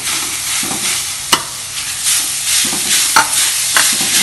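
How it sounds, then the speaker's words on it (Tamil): Chopped capsicum and cabbage sizzle and are stirred in a hot pan while sautéing for a vegetable egg omelette, a steady frying hiss broken by a few sharp scraping clicks of the spatula, close and with no talking. "இப்போ லாஸ்ட்டில் வந்து இந்த கோஸை போட்டுடுறோம்"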